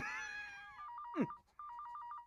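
A telephone rings in a repeated electronic trill, two bursts of ringing separated by a brief gap, following a wavering high cry, fairly quiet and with no talk over it.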